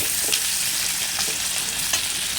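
Green chillies fry in a pan with shrimp and vegetables for a pui shak chingri dish, giving a dense steady sizzle punctuated by a few soft stirring taps, no voices.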